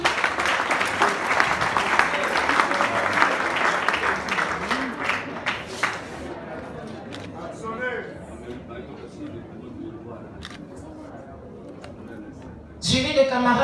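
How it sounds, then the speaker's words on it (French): Applause from a crowd at a formal assembly, as a deputy secretary general for public relations is introduced; broad clapping runs through the first few seconds, then thins out and gives way to quieter murmuring, with voices audible throughout. "Sous vos applaudissements"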